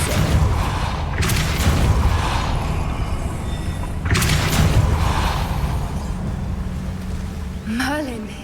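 Depulso force spell cast in Hogwarts Legacy, a loud booming magical blast that repeats twice over a dense rumbling game soundscape and ends in a rising whoosh, with no voices.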